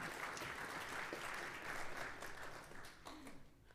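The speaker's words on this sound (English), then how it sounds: "So I want to give you a huge round of applause for yourselves." A congregation at a Shabbat Renewal service breaks into dense, sustained applause, many hands clapping together close by, tapering off slightly toward the end.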